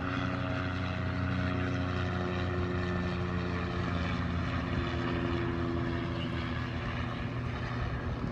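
Steady, heavy rotor drone from a helicopter hovering above a police standoff in North Sacramento, a continuous pulsing roar with engine whine, loud and unchanging throughout with no voices.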